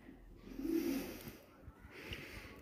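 Soft cooing of pigeons in a village, a low murmuring call rising midway and fading, then returning faintly against quiet outdoor ambience with no talking.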